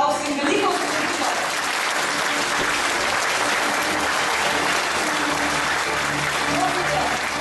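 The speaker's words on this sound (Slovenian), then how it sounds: "predsedniški kandidat dr. Milan Zver zasluži en velik aplavz" Sustained applause from a crowd at a presidential election convention in Ljubljana for candidate Dr. Milan Zver, dense and steady throughout with no pauses.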